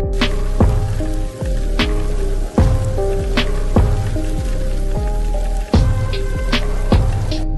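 Heavy rainstorm in a Saudi Arabian city: loud, dense rain pouring steadily on surfaces nearby, with sharp intermittent splashes and knocks throughout and no voices.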